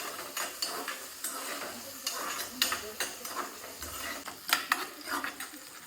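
A single onion frying in oil sizzles softly close by, while a spoon scrapes and clinks against the pan in uneven strokes.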